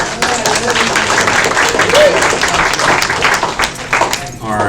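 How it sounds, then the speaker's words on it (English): An audience at a monthly community meeting claps in a sustained round of applause, dense and close, with a voice heard over it before it tapers off at the end. "big round of applause for Liz."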